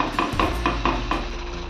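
Masala for besan chila is stirred and fried in a pan, a spatula scraping and knocking against the metal in about five regular strokes over a steady sizzle.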